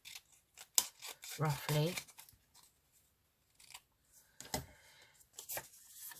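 Scissors snip through folded paper to cut out a matching shape for a Spring-themed Edith Holden craft piece, giving a few short close cuts and rustles between stretches of a person talking.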